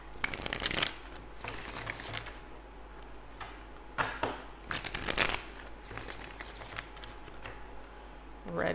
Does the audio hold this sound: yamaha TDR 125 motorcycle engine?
no